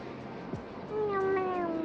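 A kitten at Vandalur zoo in Chennai gives one rising, drawn-out meow, fairly close and clear over low background noise.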